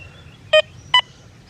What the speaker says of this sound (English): Now, you hear the tone on the nickel.